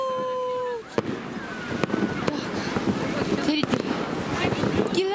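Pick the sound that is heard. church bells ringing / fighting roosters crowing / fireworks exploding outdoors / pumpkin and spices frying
fireworks exploding outdoors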